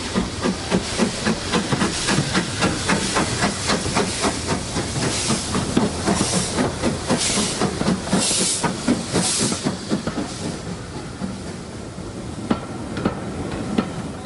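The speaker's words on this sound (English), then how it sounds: "watch LMS Ivert 4MT 43106, bringing in the next northbound service." LMS Ivatt 4MT steam locomotive 43106 arriving with a northbound train at a heritage railway station during a spring steam gala, with loud continuous steam hiss, rhythmic chuffing and clanking rail noise throughout, no speech.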